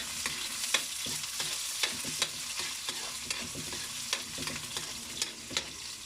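Onion and ginger sizzle in a hot pan over a strong flame, cooked for ginataang santol; a bright continuous hiss with frequent stirring clicks and scrapes, close up and without speech.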